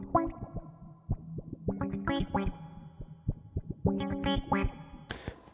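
A soloed guitar loop layer swept by an auto filter plays plucked, chorused notes with echo and a slightly gritty edge, phrases rising and opening up in brightness before a final brighter burst.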